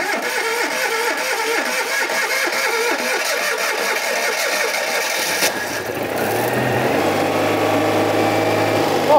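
An old barn-find car engine cranks and catches, then settles into a steady running idle with a low rumble, close by and continuous.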